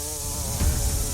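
A swarm of bees buzzes thickly around a dairy cow covered in them, a loud continuous drone with a close low rumble swelling near the end.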